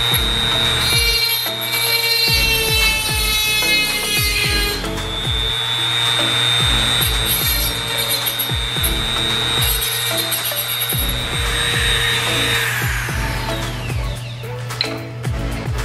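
A power tool cutting through material for a homemade aquarium tank lid, a loud continuous whining saw with grinding, rising and falling under the load, close up and alone.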